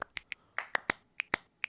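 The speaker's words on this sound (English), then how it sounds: "just the pan claps and stuff again." Panned clap samples in an electronic music track, sharp isolated hits in an uneven rhythm, about a dozen crisp snaps spaced close together, with nothing else underneath.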